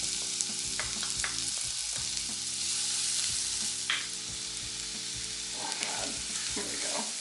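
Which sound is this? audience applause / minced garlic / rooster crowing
minced garlic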